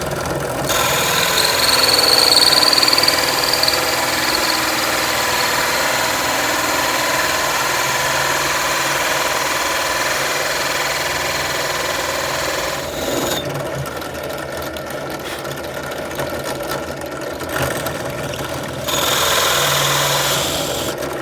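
Holesaw in a drill cutting a circle in wood, a steady grinding whine with rasping wood noise, close and continuous, briefly dropping off and then resuming near the end.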